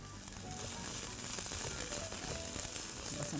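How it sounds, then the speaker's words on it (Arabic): Hot chili peppers, onion and garlic fry in vegetable oil, giving a steady, close sizzle with faint crackles and pops that holds evenly throughout. "بس نخليه يتقلى شوي"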